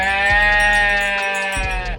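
Sheep-like bleating call of a dinosaur from the Roblox game Dinosaur Simulator, a loud, wavering nasal cry with a low thump at its start and another midway, sounding alone.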